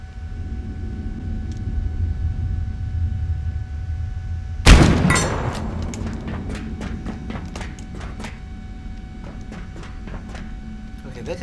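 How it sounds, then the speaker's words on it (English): Single loud shotgun blast in the survival game Abiotic Factor, a sharp close boom followed by a string of quieter clanks and taps, with a voice talking over the low background drone. "that guy must have had a shotgun or something"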